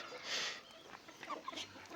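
Chickens in a coop cluck and call in short, scattered bursts at close range, fairly quiet, with no one talking.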